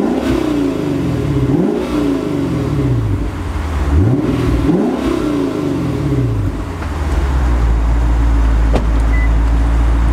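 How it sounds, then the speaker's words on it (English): A 2016 Lexus GS F V8 revs hard through its quad exhaust, several loud rising and falling sweeps before settling into a steady, throaty idle, close to the car with no talking. "We're gonna go ahead and put the camera on the tripod and rev it up for y'all so y'all can have a listen."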